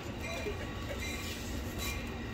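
A train rumbles past close by during an outdoor comedy show, a steady loud roar of wheels and rail noise with faint clinks throughout, no voices over it.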